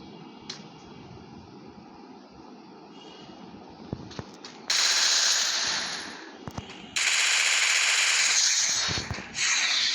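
Automatic gunfire in a video game, fired as two long, loud, sustained bursts that cut in over a low, steady game background, with a few sharp single cracks between them.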